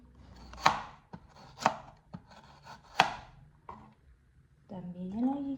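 A knife slices ginger into rounds on a board, giving about four crisp, distinct cuts with lighter taps between them, close and clear, before a voice begins speaking at the end.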